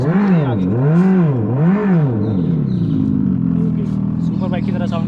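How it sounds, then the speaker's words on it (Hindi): An electric Revolt RV400 bike's underbody speaker plays a simulated superbike engine note: loud rising and falling revs in three sweeping waves, then a steady idle-like drone with a brief clatter near the end. "सुपर बाइक की तरह साउंड कर रही है।"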